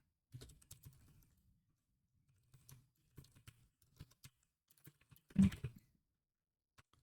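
Quiet, close typing on a computer keyboard: scattered light clicks in short bursts and pauses, with one louder key strike.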